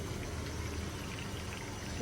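A little water is poured into a pan of bottle gourd curry being cooked with fried catla fish, a continuous close splashing pour lasting the full couple of seconds amid kitchen noise.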